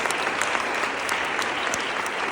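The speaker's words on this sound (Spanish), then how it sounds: "denle ese fuerte aplauso a Jesús que ha resucitado" A crowd at a Catholic Renewal assembly breaks into steady, dense applause, a continuous wash of clapping from many hands filling the space.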